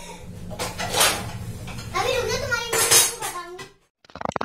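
A young girl handles dishes and utensils while cleaning a kitchen, with clinks of pots, cutlery and cupboard knocks sounding close, and someone talking over the clatter.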